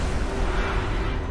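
A Bombarda spell blast in the Hogwarts Legacy video game, a single dense, rumbling explosion that stays loud and sustained for its short length, close and with no voices.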